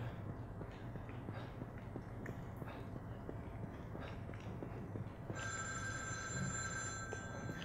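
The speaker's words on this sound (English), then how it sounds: "The phone rings. It could be anyone, but a ringing phone must be answered." A telephone rings in the horror video game The Evil Within 2, a faint electronic ring starting late over a low, rumbling ambient background.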